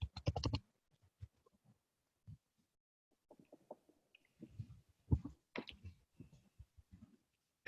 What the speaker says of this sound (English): Let me just write the email address here.